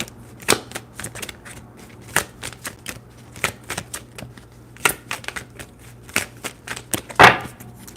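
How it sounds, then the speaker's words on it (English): A deck of tarot cards shuffled by hand at close range, giving irregular crisp clicks and soft slaps of card edges scattered over several seconds, with one louder flurry near the end and no talking. "Still got to shuffle."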